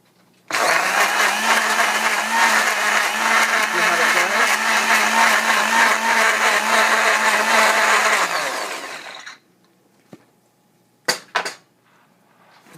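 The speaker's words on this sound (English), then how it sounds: "I put a little in a blender because I don't like mine to have so much fibers in it." A loud blender whirs steadily for several seconds processing kozo fibers for papermaking, then winds down and stops, followed by a few sharp knocks and clatters.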